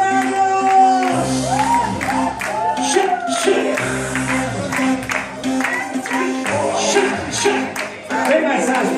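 Rhythmic clapping for a birthday rueda at a zouk-lambada dance in Barcelona, steady hand claps and shouts mixed with music and voices.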